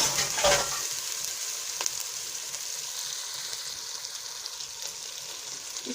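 Kadhi pakora ingredients fry in hot oil with a steady, bright sizzle, a few stirring scrapes near the start and then an unbroken crackle to the end.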